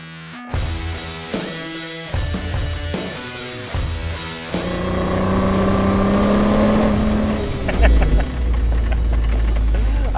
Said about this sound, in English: It's fishtailing back and forth,